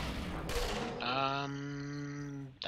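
Holy Hand Grenade in the game SOTS The Pit: a sudden noisy blast, then a long sustained, choir-like harmonic tone that holds steady for over a second before cutting off sharply.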